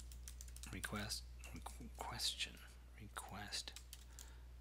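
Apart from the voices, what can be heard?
typing on a computer keyboard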